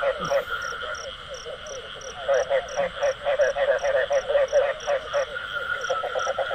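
Frogs croak in a rice field at night, a rapid rhythmic chorus of repeated calls, loud and close, with a steady high insect-like tone pulsing above them.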